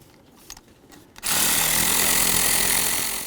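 A power tool starts with a sudden whir and runs steadily, loud and close, removing the throttle body mounting bolts on a 2003-2007 GMC Envoy, after a few light clicks and taps.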